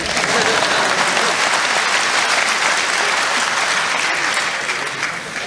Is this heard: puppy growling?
no